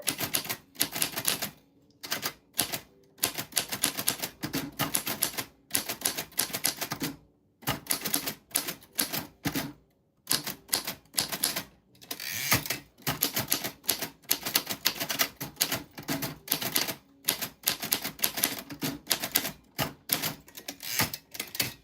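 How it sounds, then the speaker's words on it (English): A 1949 vintage manual typewriter clatters through bursts of rapid key strikes separated by short pauses, loud and close, with no voices over the typing. "That's what your name sounds like on a vintage typewriter. This is from 1949."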